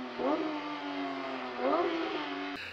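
A 2024 Porsche 911 engine roars and revs in two rising surges, loud and close, then cuts off abruptly near the end.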